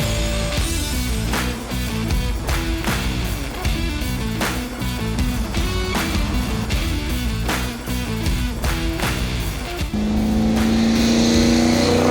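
A loud, rumbling Chevy V8 engine in a 1932 Ford three-window coupe hot rod idles and revs with a steady, throaty roar and rhythmic pulsing, close by, rising to a higher-pitched rev near the end.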